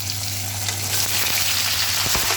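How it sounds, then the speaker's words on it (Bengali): Small potatoes dropped into hot oil with whole cumin seeds, bay leaves and radhuni, sizzling steadily up close for a couple of seconds with a few stirring scrapes near the end. "এখন আমি আলুটা দিয়ে দিলাম।"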